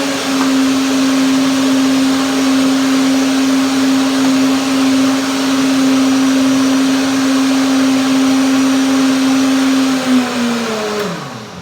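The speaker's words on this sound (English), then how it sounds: "even sound of the blender" A blender runs at a steady high whine, blending a pudding of avocado, walnut and pineapple, loud and close, then winds down near the end.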